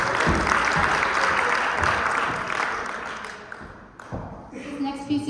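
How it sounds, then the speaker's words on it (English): Applause from an audience at a birth center gathering, a broad wash of clapping that fades out after about four seconds, followed by a voice starting to speak. "give yourselves a round of applause"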